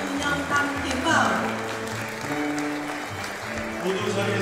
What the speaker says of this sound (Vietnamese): 모두 자리에서 일어나 큰 박수로 환영해 주시기 바랍니다.